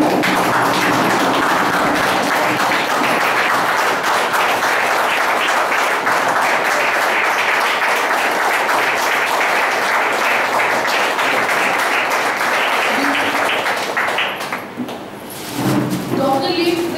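A large audience at a camp event claps loudly and steadily for Dr. Lim, a dense sustained wall of applause that fades briefly near the end, with voices mixed in.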